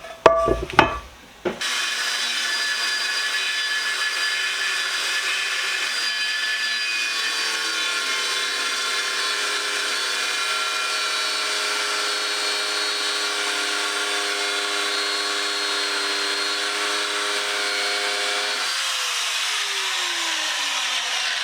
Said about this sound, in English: this grinder does not like this aluminum at all